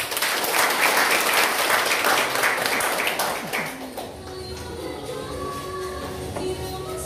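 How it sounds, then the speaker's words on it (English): An audience applauds warmly to welcome Municipal Vice Mayor Albert R. Villahermosa of Ilongos: dense, sustained clapping for about four seconds that then fades into quieter room noise with faint talk. "give a warm round of applause"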